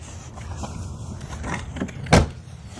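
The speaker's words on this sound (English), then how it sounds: "Let me shut the door here." A Chevy van door shuts with one solid thud near the end, after some shuffling and handling noises nearby.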